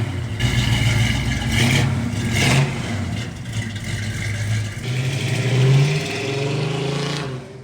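A car engine runs close by as the car is moved out of a work area, with low rumbling and a couple of gentle revs rising and falling.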